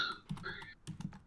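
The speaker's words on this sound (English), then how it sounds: "Oh, sorry, I'm typing." Quick, light clicking of keys on a computer keyboard during a casual gaming chat show, a short burst of irregular taps heard close and alone.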